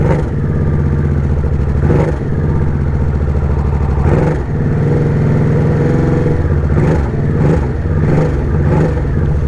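A 2023 Harley-Davidson Nightster Special motorcycle idles loud and close with a deep rumbling engine. It is revved several times, each rev rising and then falling back to idle.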